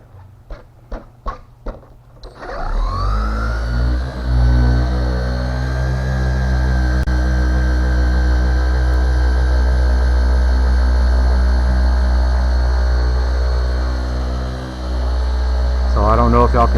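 A 3-inch car paint polisher spins up after a few short taps and then runs loud and steady with a constant high whine and low drone, briefly dipping before revving again near the end.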